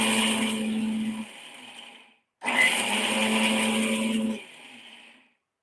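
A kitchen mixer grinder whirs loudly as it coarsely grinds ingredients for fasting medu vada, running in two bursts separated by a brief silent pause, each winding down as the motor is switched off.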